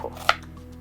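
A single sharp knife chop through onion onto a cutting board, close and clear, with faint kitchen hum around it and no talk.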